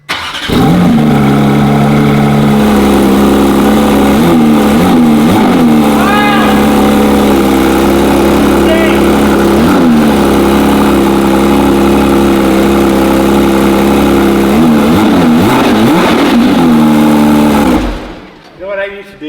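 A wrecked and rebuilt 2024 Porsche GT3 RS engine runs loud and close, warmed up, rising and falling through several revs over a steady rumble before shutting off near the end; voices talk over it.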